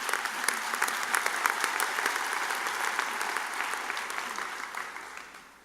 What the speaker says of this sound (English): Yeah, let's clap for it, absolutely.